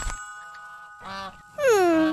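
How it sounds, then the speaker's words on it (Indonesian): A goose honks loudly up close, a long nasal call with a bending pitch that follows a fainter earlier cry, in a cartoon scene where an escaped goose is loose. "Angsa atuk terlepaslah tu."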